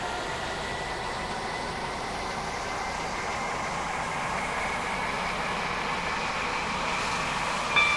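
A Class 195/1 train runs in the Roblox game SCR with a steady, even rumble of motor and wheels that holds for about eight seconds, plus a brief click near the end.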